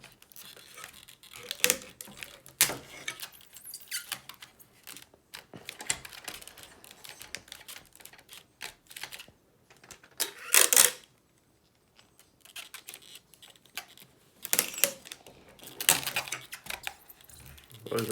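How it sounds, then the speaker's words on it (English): Adhesive tape pulled off a roll and pressed down during repair of a Frigidaire refrigerator's damper, with sharp intermittent crackles and taps close by, separated by brief pauses. "Tape that down."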